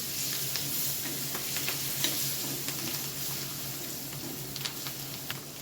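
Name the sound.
coriander and curry leaves frying in pan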